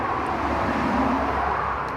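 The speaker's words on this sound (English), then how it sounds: "Excuse the traffic noise, we've got a main road right here." Steady traffic noise from a nearby main road forms a constant, moderately faint wash of passing vehicles during an outdoor barbecue cook, with no talking.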